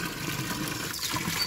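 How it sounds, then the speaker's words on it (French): Water running from a tap into a dog bowl at a roadside water point, a steady close splashing trickle without any talking. "Tu préfères boire au robinet? J'ai mis la gamelle en dessous."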